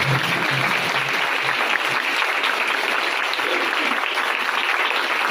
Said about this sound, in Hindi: आपकी तालियों की गूंज उठाइए